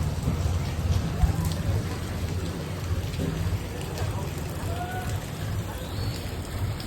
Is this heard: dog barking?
no